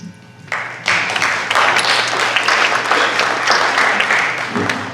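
An audience at a town candidates debate claps in sustained applause, with a brief quieter patch before it swells and a voice underneath at the start and end.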